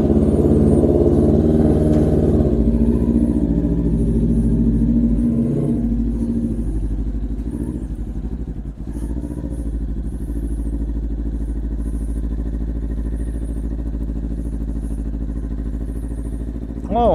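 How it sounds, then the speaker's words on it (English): A Kawasaki Ninja 400 motorcycle runs in snow at about 5 degrees, with a loud, steady, low engine drone and slight rises in revs throughout, as a person talks over it. "So why not try riding the bike today?"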